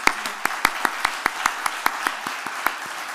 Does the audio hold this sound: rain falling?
no